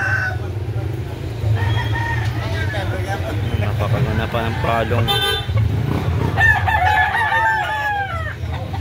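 A black-legged White Kelso gamefowl rooster crows loudly nearby near the end, with clucking earlier, while someone talks over it throughout.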